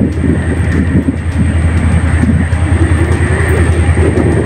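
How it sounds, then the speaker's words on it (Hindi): Hazara Express passenger train running through Palijani railway station, a steady loud rumble of wheels and carriages with rhythmic track clatter throughout, close by and continuous with no talk. "आज का आखिरी एक्शन 11 अप हजारा एक्सप्रेस पास कर रही है पाली जानी"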